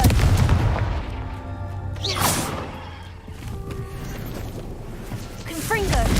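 Fiery Confringo spell blasts from the video game Hogwarts Legacy, a sharp burst near the middle and another at the end over a dense bed of crackling, rumbling game effects, with a voice speaking in the background.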